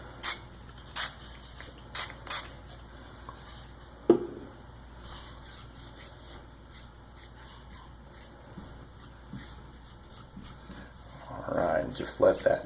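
A spray bottle is shaken and then spritzed onto a leather knife strop, giving a few short rattling shakes and quick hissing sprays separated by quiet gaps, with a brief burst of handling noise near the end.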